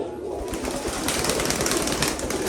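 Domestic pigeons cooing close by, a soft continuous burble against steady background hiss, the birds including a molting one kept in a home loft on a rainy day.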